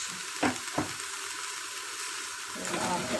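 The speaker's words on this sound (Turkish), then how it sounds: "Şimdi suyunu koyuyorum" Water pours into a cooking pot with a steady rushing splash over a hissing background, after two short knocks of a pot or utensil.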